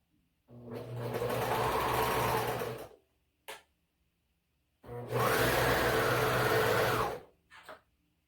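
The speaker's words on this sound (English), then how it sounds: "So now I'm going to stitch the neckband on, and starting at the V with a 1/2 inch seam allowance." A sewing machine stitches a neckband with a half-inch seam allowance, running in two loud, steady bursts of about two and a half seconds each, separated by a pause with a brief click and a short whir.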